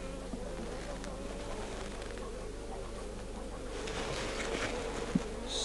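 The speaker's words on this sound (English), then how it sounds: "They're actually pretty friendly bees too." Bees buzz around a swarm hive: steady, dense insect buzzing from many bees, close and continuous, with a low hum underneath and a few louder passes near the end.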